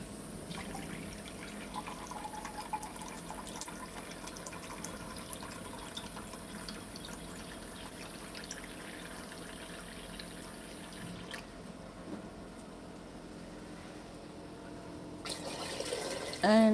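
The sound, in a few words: water being poured into a pot for jollof rice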